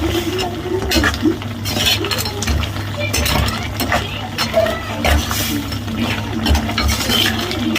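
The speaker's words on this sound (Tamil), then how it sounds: "கொஞ்சமாக மிளகு சீரல் சேர்த்துக்கலாம் சேர்த்து நல்லா மிக்ஸ் பண்ணி விட்டுருவோம்" A pepper and cumin mixture is stirred in a cooking pot, with scraping, soft sizzling and occasional utensil clinks against the metal. Someone talks over the steady stirring.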